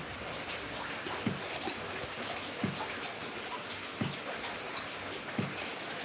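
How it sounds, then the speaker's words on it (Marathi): Continuous rain falling in a long spell of flooding downpour, a steady dense hiss of drops close by, with a few soft dull knocks recurring at even intervals beneath it. "थांबायचं नावच घेईना पाऊस."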